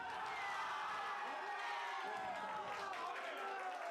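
Spectators roar and cheer at a Valorant esports match in the VCT Pacific Stage 1 groups, ZETA against DFM on Lotus, a steady wash of crowd noise under a caster's voice.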